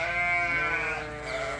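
Sheep bleat indoors in a barn, one long wavering close call and then a second shorter bleat overlapping it.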